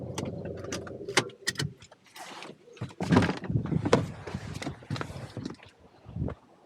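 A car parks, then a door opens and shuts as someone gets out, with clunks, footsteps on gravel and jangling keys nearby, in a quiet village lane beside an old vicarage.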